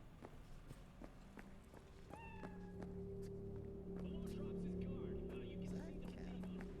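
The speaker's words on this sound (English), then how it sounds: "Is that a cat?" A cat gives a single rising meow in the game Cyberpunk 2077. It is brief and near, set against a steady humming city ambience with scattered footsteps and clicks.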